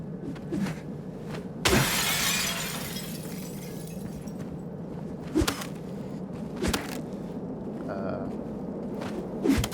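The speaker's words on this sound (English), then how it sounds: "Still generally just smashing all the glass I can find." Glass smashing in the video game Silent Hill 2 Remake, one loud shattering crash with a long tinkling spray, followed by several sharper impacts and footsteps over a low ambient drone.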